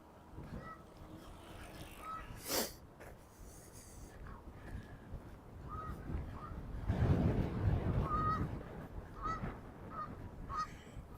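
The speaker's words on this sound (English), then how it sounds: "Ice is still thick enough that the geese can walk on it" Geese honk repeatedly on a frozen lake in Regina in April, with scattered calls at moderate distance mixed with wind buffeting the microphone and some distant crow-like caws.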